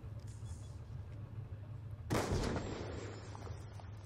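A single sharp gunshot in Black Ops 2 fires midway through, a loud crack with a brief rumbling tail over a low steady game hum.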